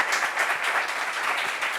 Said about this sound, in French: Applaudissements pour nous.